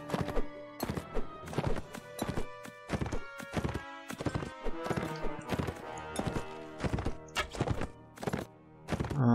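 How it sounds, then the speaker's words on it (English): Horse hooves trotting in the Mount and Blade video game, a loud, close, rhythmic clip-clop of hoofbeats that continues steadily throughout and stands alone without talk. "Come on, horsey, move it."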